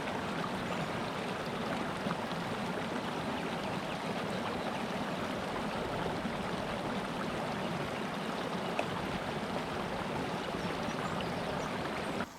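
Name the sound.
stream water splashing during a morning wash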